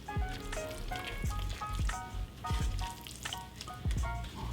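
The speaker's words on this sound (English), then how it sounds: "So we'll give it another stir here." Cauliflower grits stirred in a pan, with repeated soft scraping and spoon knocks in an irregular rhythm over a faint sizzling bubble, close and fairly quiet.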